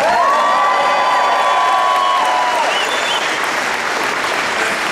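A large, enthusiastic crowd at a political rally applauds steadily and loudly throughout, with a few cheers and whoops rising above the dense clapping.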